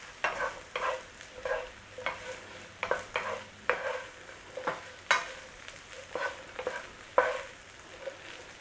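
Potatoes frying in oil in a pan, a soft sizzling bed punctuated by regular spatula scrapes and clacks roughly every half second across the stretch, close and fairly quiet.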